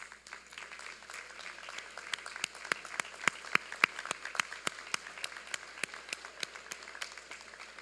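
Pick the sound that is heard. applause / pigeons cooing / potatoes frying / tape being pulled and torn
applause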